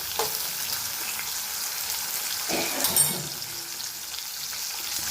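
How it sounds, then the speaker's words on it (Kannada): Green peas fry in hot oil with a steady, close hiss of sizzling, plus a brief clatter of stirring near the middle and no voices. "ಚೆನ್ನಾಗಿ ಎಣ್ಣೆಯಲ್ಲಿ ಬಟಾಣಿ ಹಾಕ್ತಿದ್ದೀನಿ. ಚೆನ್ನಾಗಿ ಎಣ್ಣೆಯಲ್ಲಿ ಫ್ರೈ ಆಗಲಿ ಬಟಾಣಿ."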